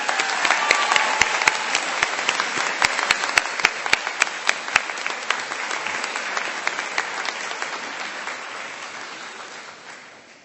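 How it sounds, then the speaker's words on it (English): An audience at a nurses recognition event gives a sustained round of applause, with a few sharp, distinct claps standing out early, before the clapping gradually fades toward the end. "Why don't we give all of them another round of applause?"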